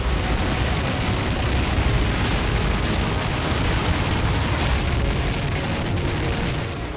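A dense, continuous roar of booming blasts and rumbling explosions in Kyiv during Russian strikes in the Russia–Ukraine war, loud and sustained with no pause throughout.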